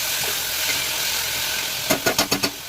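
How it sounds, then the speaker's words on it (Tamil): Onions and tomatoes sautéing in a pan for a chickpea curry, with a steady low sizzle followed by five quick, evenly spaced scraping stirs near the end. "தக்காளி நல்லா குறைய வதங்கட்டும்"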